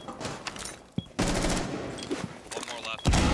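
Bursts of automatic gunfire in Rainbow Six Siege as a player shoots through floors, loud rapid volleys separated by brief pauses, with game sounds mixed in.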